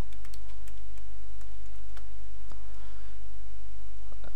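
Someone types a short word on a computer keyboard, producing a scattered run of light key clicks over a loud, steady low electrical hum.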